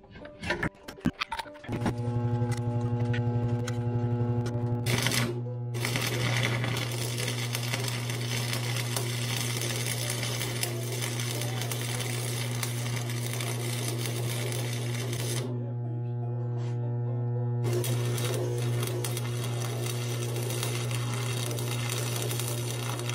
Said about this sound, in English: I'll go ahead and weld this other one if we can.